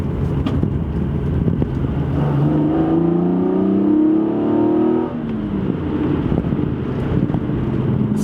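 Toyota Supra fitted with individual throttle bodies accelerating along a rough road, engine note rising steadily under constant wind and road roar, then easing off.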